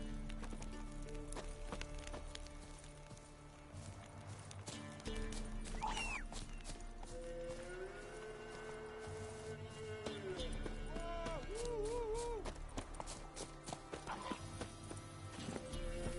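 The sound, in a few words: horse Roach galloping, Witcher video game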